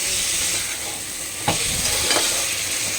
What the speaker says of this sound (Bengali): এইভাবে কষানো হবে বেশ কিছুক্ষণ কষানো হবে